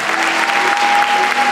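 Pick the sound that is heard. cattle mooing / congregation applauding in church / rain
congregation applauding in church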